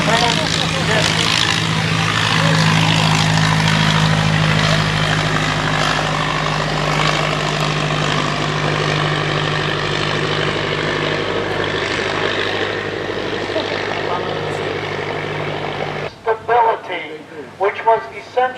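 A 1918 vintage propeller airplane runs its engine with a steady droning buzz under ongoing talk, then cuts out abruptly near the end, leaving only speech.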